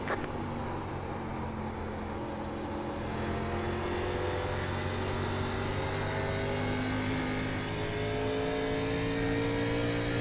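NASCAR truck racing engine in the iRacing simulator holding a steady, loud drone for about ten seconds, its pitch rising slowly as the truck pulls at high speed, with no talk over it.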